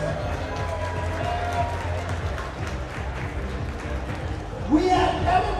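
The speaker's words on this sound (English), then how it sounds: "Give her a big round of applause" At a live saltwater aquascaping contest, an indoor crowd claps and cheers for a contestant; scattered applause rises under a host's amplified talking, swelling with a louder cheer near the end.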